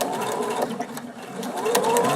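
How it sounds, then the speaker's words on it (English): A sewing machine stitches quilt pieces in a quick, even mechanical chatter, close and continuous with a slight dip in the middle. "Then I will probably sew without bouncing back and forth every time."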